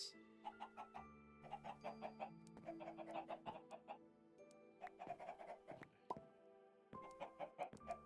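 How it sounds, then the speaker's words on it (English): Chickens in the SkyFactory 4 video game cluck in quick repeated bursts, several overlapping calls coming in clusters with short pauses between, fairly clear and close, with no talking over them. "These chickens are going crazy over there."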